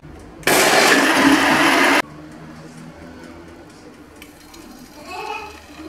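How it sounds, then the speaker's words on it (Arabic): A blender making carrot and yogurt juice roars loudly for about two seconds, then cuts off abruptly, leaving quiet room noise and a brief voice afterward. "صافي دابا غادي نطحن كلشي."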